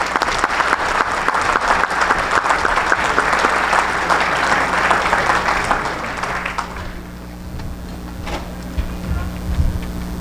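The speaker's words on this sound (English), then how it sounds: "So let's have a nice round of applause for these guys." Applause from the audience at a baseball coaches' Hall of Fame induction ceremony, a broad dense clatter of many hands lasting about seven seconds, then tapering into quieter room noise with a few scattered claps.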